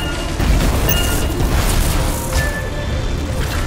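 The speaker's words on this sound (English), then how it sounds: "Stand clear for detonation." A detonation in the sci-fi video game Anthem rumbles out as a deep sustained boom with crackling, churning debris noise, staying loud and dense for several seconds with no talk.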